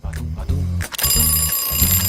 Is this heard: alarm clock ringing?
yes